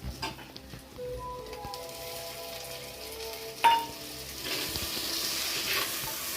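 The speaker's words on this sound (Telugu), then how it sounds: "ఇదిగోండి ఇక టమాటా ముక్కలు వేస్తాం" Tomato pieces drop into a hot pan of oil for a chicken curry, setting off a soft sizzle that swells after a sharp clatter midway, with faint kitchen clinks and running water in the background.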